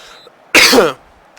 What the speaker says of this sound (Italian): Da quando parlo, proprio tosse stizzosa di merda.